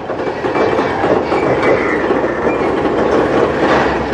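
Two CSX locomotives haul an all-tanker local industrial train through a rail yard, filling the air with a loud, continuous rumble and clatter of rolling wheels passing close by.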